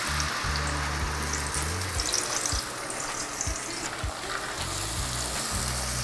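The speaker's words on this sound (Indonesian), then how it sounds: "Ini tumis bumbunya sampai benar-benar matang" Ground spice paste sautéing in a little hot cooking oil for an Indonesian egg semur, a steady sizzling hiss that runs throughout, with low humming tones underneath at points.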